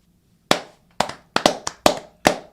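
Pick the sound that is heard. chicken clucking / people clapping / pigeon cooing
people clapping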